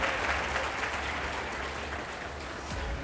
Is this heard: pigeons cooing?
no